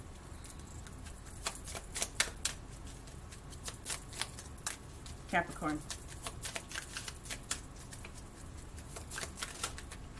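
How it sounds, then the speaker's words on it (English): Soft rapid riffling of oracle cards, brief ruffled bursts scattered across the clip beneath a person talking quietly. "Shuffle up and deal."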